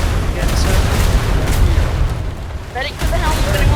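Naval cannon fire in a video game, a Royal Navy ship battle, heard as repeated deep booms and blasts rolling over continuous low rumble, with voices talking over it.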